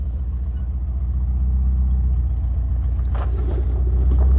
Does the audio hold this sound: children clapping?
no